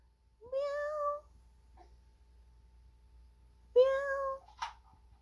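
A 13-month-old child imitates a cat's meow twice, each a clear, drawn-out rising-falling cry about three seconds apart, followed by a short sharp squeak, close up in a quiet room.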